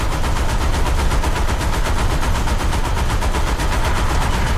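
Rapid cannon and gunfire from a World War II tank battle video game with a Panzer IV F2, loud and continuous, with repeated sharp blasts and no talk.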